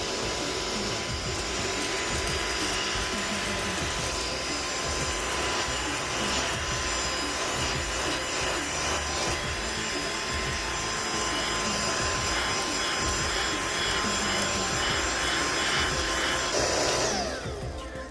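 An OYLIK cordless handheld air duster vacuum, 90,000 RPM, runs continuously while sucking up spilled cereal, a loud, close, high-pitched motor whine with rattling debris. It cuts off just before the end.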